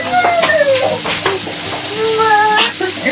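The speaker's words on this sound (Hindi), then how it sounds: "ये जी अभी बना रही है रिदा vegetable rice, mix vegetable rice" Mixed vegetable rice cooking in a pan, a steady sizzle with stirring scrapes close by, while faint voices and a child's speech carry in the background.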